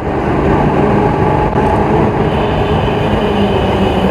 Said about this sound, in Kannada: ನೋಡಿ ನಾಯಂಡಲ್ಲಿ ಮೆಟ್ರೋ ಸ್ಟೇಷನ್